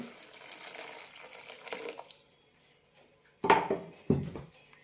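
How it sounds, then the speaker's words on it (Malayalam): Water trickles softly at first, then two short, louder bursts of water pouring and splashing into a peanut curry follow close by. "കുറച്ച് വെള്ളം കൂടി ഒഴിക്കാം"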